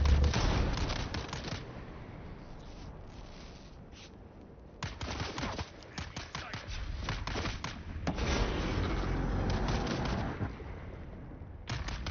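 Gunfire and explosions in the sci-fi video game Dune Awakening, heavy rumbling bursts and rapid crackling shots coming in waves, loud and low with brief pauses between volleys.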